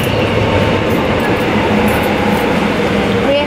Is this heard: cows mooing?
no